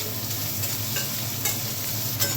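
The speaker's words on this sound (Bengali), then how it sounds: "পেঁয়াজটা একটু নাড়বো।" Onions with black cumin frying in a pan, stirred with a utensil: a continuous sizzle broken by a few sharp scraping strokes, close and fairly loud, with no talking.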